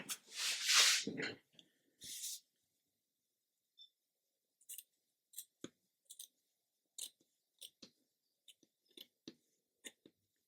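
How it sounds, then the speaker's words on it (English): A burst of rustling opens, then a series of short, sharp scissor snips cutting a strip for a model ship display stand, spaced irregularly and fairly close. "You can always go in with a pair of scissors to finish the job off"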